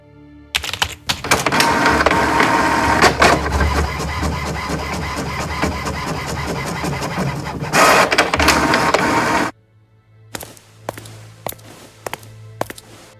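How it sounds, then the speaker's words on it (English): Printer in the video game Monolith printing a picture onto a condolence card: a long, loud mechanical whirring run of about nine seconds, then a quieter stretch of short clicks and ticks. "I put the condolence card into the printer's paper tray."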